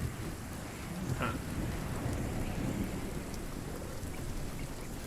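Steady rain pours through a thunderstorm in RuneScape: Dragonwilds, with a low rumble of thunder rolling underneath and a brief sharper crack partway through, all at a moderate, even level.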